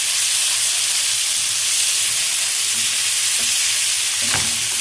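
Spinach with garlic, green pepper, salt and coriander sits over a sauce in a pan, giving a steady, close sizzling hiss with faint stirring scrapes that runs unbroken throughout.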